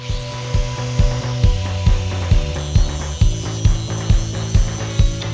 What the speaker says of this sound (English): That means I need to shave off just a little bit on the inside to tighten up that gap